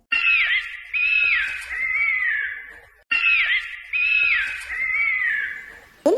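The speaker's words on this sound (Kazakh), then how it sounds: "Түлкі." A fox gives harsh, wavering, high-pitched cries in quick series. Two near-identical runs of calls are separated by a short silence, and the calls are clear and close with no other sound.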